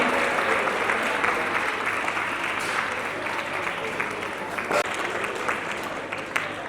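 Continuous applause rolls on at a 2021 annual prize distribution ceremony, a thick, even patter of many hands clapping at moderate loudness with occasional sharper claps and faint crowd murmur beneath.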